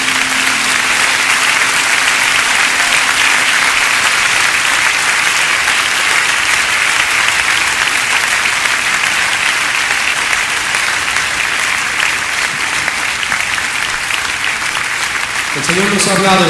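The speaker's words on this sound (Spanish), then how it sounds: "Aleluya, demos un aplauso a nuestro Dios." A church congregation gives loud, sustained applause that fills the room steadily for over fifteen seconds, with a few voices rising near the end.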